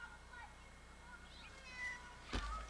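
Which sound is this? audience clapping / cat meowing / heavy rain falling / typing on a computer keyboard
cat meowing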